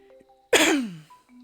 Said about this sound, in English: For some reason I've got a bit of a cough now.